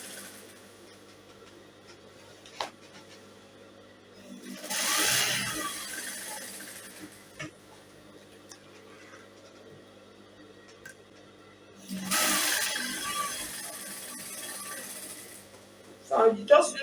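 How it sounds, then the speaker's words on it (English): A sewing machine stitches dress fabric for an inseam pocket in two short bursts of a few seconds each, separated by a longer stretch of quiet handling, all close by. "I'm just going to stitch and secure the fabric down"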